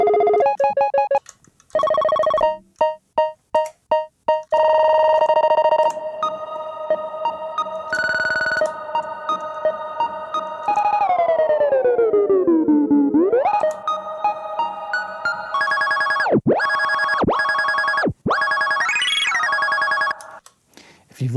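A guitar effects pedal on a pedalboard fires electronic blips and tones: rapid stuttering bursts, sustained buzzy notes, a pitch sweep diving and rising, then swooping chirps. The sounds are loud and close, with no talking.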